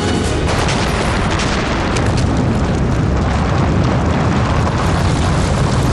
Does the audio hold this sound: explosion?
yes